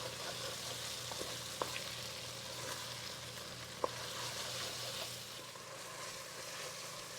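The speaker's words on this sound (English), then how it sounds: "We're going to cook this, continuing to stir constantly, for about 4 minutes." Garlic and salt cooking in a pan for penne alla vodka, stirred constantly: a steady, even sizzle with a low background hum and a couple of soft utensil clicks.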